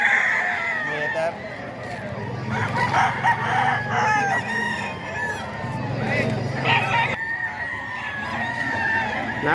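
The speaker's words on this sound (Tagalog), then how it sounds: "Napakadaming manok dito sa Bukawi ngayon mga ka-idol." Many chickens and roosters at a poultry market in Bocaue crow and cluck together, overlapping calls near and far against a busy crowd murmur with people talking.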